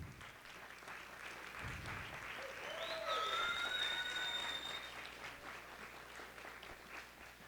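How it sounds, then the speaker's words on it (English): Audience applause at a high school band and choir winter concert, honoring students' parents; steady clapping swells toward the middle and fades slightly, with a few whistles cutting through midway. "let's give them a round of applause"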